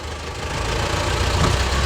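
A tractor engine runs with a Skif-1.9 disc harrow attached before discing, a loud, close, rough steady drone that builds slightly over a couple of seconds.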